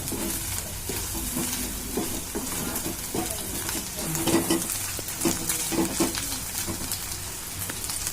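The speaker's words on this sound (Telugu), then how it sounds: "ఈ మసాలా అంతా ఈ చికెన్కి పట్టేటట్టు వేయించుకున్నాం." Chicken frying with masala in a pan, a dense steady sizzle with frequent scraping stirs and clinks of a utensil against the pan, close and fairly loud throughout.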